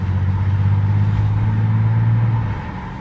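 A Bentley GT Speed's 625-horsepower engine rumbles steadily with a deep, low drone, loud and close, easing slightly toward the end.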